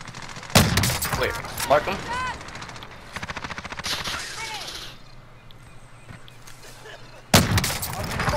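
Gunfire in Call of Duty: Modern Warfare: loud bursts of automatic fire open and close the stretch, with scattered single shots and game effects between, while a player speaks briefly over it.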